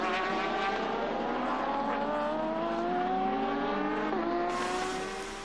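Porsche and Toyota race cars in a wheel-to-wheel battle during an FIA WEC endurance race, their engines holding a loud, sustained high-pitched whine that rises steadily under acceleration and then fades slightly as they pass.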